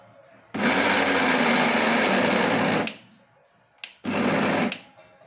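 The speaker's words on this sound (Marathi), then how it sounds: "व्यवस्थित मिक्सरमध्ये साबुदाणा थोडंसं मॅश करून घ्यायचं." A kitchen mixer grinder coarsely mashes soaked sago in two loud, whirring bursts: a longer run of a couple of seconds, then a brief tap and a second shorter run after a pause.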